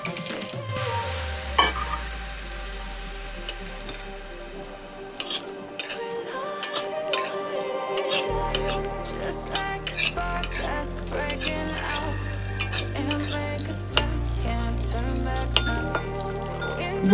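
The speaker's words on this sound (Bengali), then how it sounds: "এবার বড়ি নিয়েছি, বড়িটা ভেজে নেব।" Bori lentil dumplings frying in mustard oil in a pan, a steady close sizzle with occasional light clinks of a spatula against the pan, no talking.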